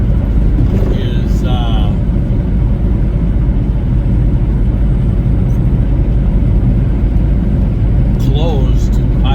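A vehicle drives a Wyoming highway through a dust storm in gusty winds, giving a steady, loud low rumble of road and wind noise throughout, with faint brief squeaks over it.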